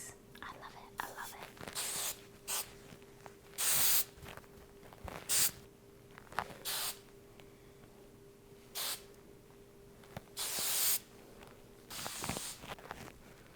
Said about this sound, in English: next I'm gonna do some hairspray